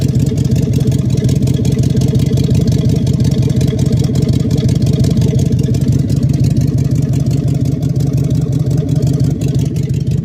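A 1970 Chevelle SS 396 V8 idles loud and close, a constant deep throbbing rumble that runs unbroken from start to finish.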